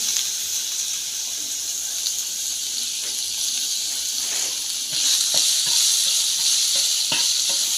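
Cumin seeds with garlic and ginger paste hitting hot oil give a loud, dense, hissing sizzle that swells partway through, broken by faint clinks and scrapes, close up with no talking.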